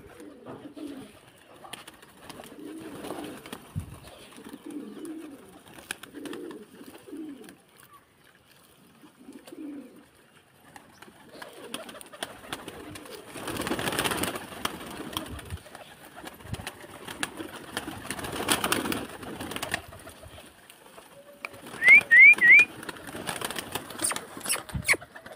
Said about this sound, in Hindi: ये हमारे कबूतर उड़ रहे हैं।